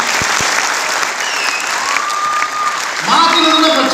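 Loud, continuous audience applause at a stage program fills the hall throughout, with a voice and some tonal sound joining near the end.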